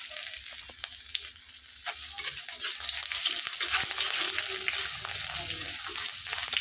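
Ginger and panch phoron spices fry in a pan for a Bengali vegetable curry, giving a steady, close crackling sizzle with occasional sharp pops and faint stirring.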